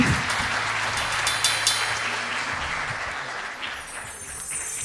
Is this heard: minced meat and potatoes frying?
no